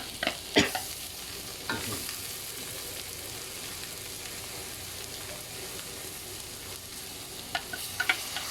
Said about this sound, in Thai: เอาเกียดลงไปคั่วกับพริกแกงก่อน